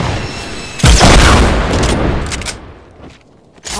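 Gunfire in an online battle-royale shooter game: a loud sudden burst of shots crashes in, decays over a second or so, then a second sharp report follows near the end.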